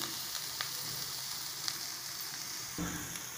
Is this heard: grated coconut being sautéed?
yes